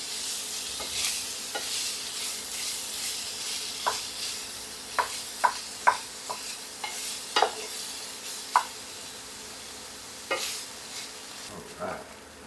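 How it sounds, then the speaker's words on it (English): Rehydrated freeze-dried raw ground beef, five years old, browns in a pan with a constant sizzle under repeated sharp stirring scrapes and taps from a utensil. "Get some nice brown texture on the bottom of that and we'll stir it up."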